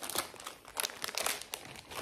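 A plastic pouch of almonds, peanuts and cereal is handled up close. The crinkling comes in quiet, irregular bursts, and no voices are heard.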